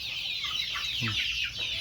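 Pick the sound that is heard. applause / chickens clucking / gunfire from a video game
chickens clucking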